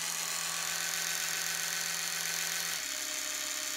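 Steady high-pitched buzz of an Oral-B Smart 4 4000N electric rechargeable toothbrush running up close, dropping to a slightly lower, softer hum near the end as it switches to a slower speed.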